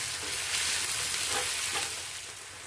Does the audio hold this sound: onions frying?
yes